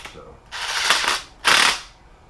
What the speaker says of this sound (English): we're just going to run these bolts up